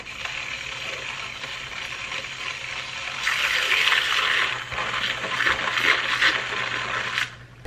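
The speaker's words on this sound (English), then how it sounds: "I'm gonna go ahead and mix the coffee now. Got a little frozen at the top." Partly frozen coffee being stirred and mixed, a steady close scraping and swishing that grows louder and busier midway, then stops abruptly near the end.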